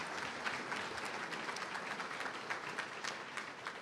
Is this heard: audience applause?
yes